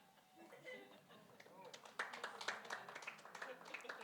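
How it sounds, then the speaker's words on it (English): Wedding reception guests clap in answer to a quiz question, a faint scattered patter of hand claps building and continuing in an irregular rhythm, heard from a distance with some voices mixed in. "Those who clapped are correct."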